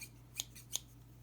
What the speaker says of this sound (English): here's the scissors that come with it